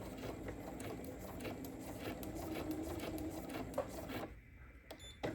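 A sewing machine stitches a quilt block, its needle running in a quiet, steady rapid patter before stopping near the end, followed by a few faint clicks.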